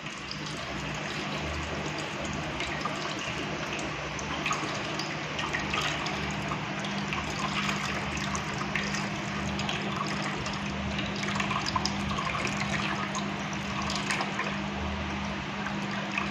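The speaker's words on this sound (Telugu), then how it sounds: "ఇప్పుడు ఈ వాటర్ మొత్తం లేకుండా మనం కొంచెం పిండాలన్నమాట." Whey trickles and splashes into a bowl as homemade paneer is squeezed in a cloth, a steady close watery patter that runs without pause and without talk.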